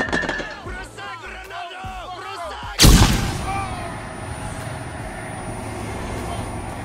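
A firework grenade goes off with a single sharp, loud blast partway through, followed by a long noisy rumbling decay after a stretch of quieter background sound.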